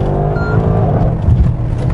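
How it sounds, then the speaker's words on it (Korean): Loud, steady exhaust note of a Mercedes-AMG GLC 63 S Coupe V8, a deep rumbling drone that swells slightly midway, heard alone without talk. "이 배기음,"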